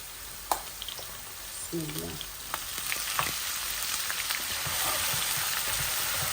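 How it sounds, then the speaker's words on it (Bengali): Onion frying in hot oil for a Bengali tengra fish curry, a crackling sizzle with scattered pops close by, and brief talking near the middle. "এই যে আমার লাল হয়ে যাচ্ছে, আমি অনিয়নটা দিয়ে দিচ্ছি।"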